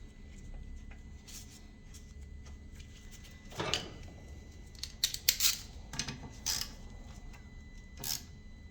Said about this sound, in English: Snip that up like so